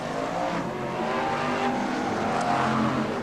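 BriSCA Formula 1 stock cars race around the sunbaked Skegness Stadium oval in July 1994, a dense, continuous roar of several engines revving and surging together at steady loudness, with occasional tire scrubbing in the mix.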